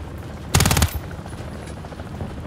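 A short, loud burst of rapid automatic gunfire in the Call of Duty game, mission Precious Cargo, roughly eight quick shots in under half a second, then a low murmur of game ambience with no talking.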